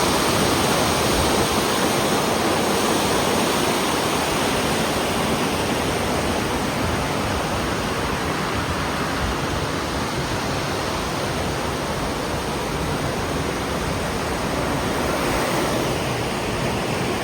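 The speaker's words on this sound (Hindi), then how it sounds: "पानी का शोर काफ़ी आ रहा होगा वीडियो में" Water rushes in ravines around a hilltop temple during the rainy season, producing a loud, continuous, dense roar that stays steady throughout with no voices.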